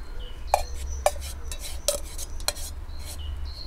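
Food dropped into a pan on a backpacking camp stove: a few sharp clinks and soft scrapes of utensil against the pan spaced about a second apart over a low steady burner hum.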